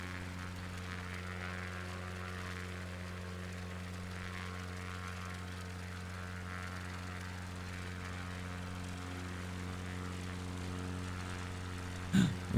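Drone propellers buzz in a steady, continuous drone in the North Queensland bush, loud and close throughout, with a short bump in level right at the end.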